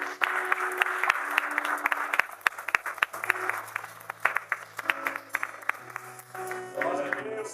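Scattered, uneven clapping from a church congregation during a communion service, with individual sharp claps over background music and a voice.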